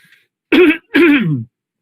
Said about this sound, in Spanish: No puedo carraspear con fuerza porque me duele el pectoral.